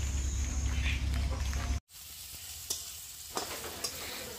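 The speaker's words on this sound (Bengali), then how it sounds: "তো আজকে দেখো অল্প একটু কাঁকরোল ভাজা করছি, এইটুকু কাঁকরোল ভাজা করছি শুধু আমার সোনা বাবার জন্য।" Spiny gourd (kakrol) frying in a small batch in hot oil, a steady broadband sizzle with low rumble that cuts out briefly, then returns thinner with a few sharp crackles and pops.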